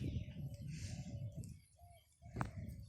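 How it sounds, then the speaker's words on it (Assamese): Pigeons or doves coo softly outdoors near a field, low repeated calls with a faint chirp among them, quiet and set in a breezy open-air background with no talking. "আপোনালোকে চৰাই চিৰিকটি মাতটো বেছিকৈ শুনিবলৈ পাব দেই"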